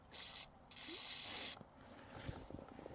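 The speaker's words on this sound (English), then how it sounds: "Just spray some WD-40 in that hole." Short, close hissing bursts of WD-40 sprayed from an aerosol can into a gear shifter hole, two spurts with a longer one in the middle, followed by faint clicks and rustling.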